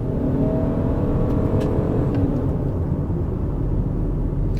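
A 2021 Ford Escape PHEV's gasoline engine accelerates at full throttle from about 50 km/h through a variable transmission, a loud steady drone with rising whine and road roar, no talking over it.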